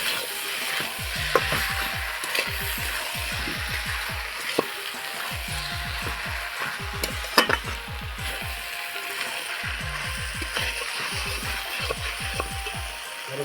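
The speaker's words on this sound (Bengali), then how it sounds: "1 চামচ জিরা পাউডার, 1 চামচ ধনিয়া পাউডার দিয়ে ভালো করে মাখিয়ে নেব মশলাতে।" Masala with cumin and coriander powder stirred in a frying pan for a mushroom mixed-vegetable dish: repeated rhythmic scraping strokes in short bursts over a soft steady sizzle, close and unaccompanied by talk.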